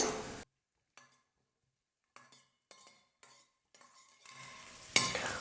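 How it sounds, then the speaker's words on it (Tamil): Cashews frying in melted ghee in a pan for carrot halwa: a faint sizzle sits under a few short, sparse scrapes and clinks of a stirring spoon, with quiet gaps between them. "நெய் நல்லா உருகுனதுக்கப்புறமா கொஞ்சமாக முந்திரி சேர்த்துக்கிறேன்."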